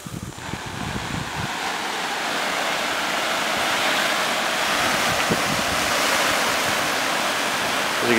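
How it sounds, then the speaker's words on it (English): A garden hose set to shower mode sprays water onto a water-repellent umbrella, a dense, steady hiss that builds slightly after the first second and keeps going without pause. "So I got the hose right here. Got it on shower mode."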